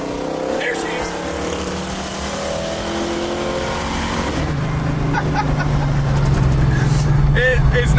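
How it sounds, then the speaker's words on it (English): A 1969 Chevrolet Camaro fitted with aftermarket mufflers revs in first gear after a downshift, its engine note rising from a steady rumble into a louder, deeper growl close by. "It sounds cool because I put my mufflers on it"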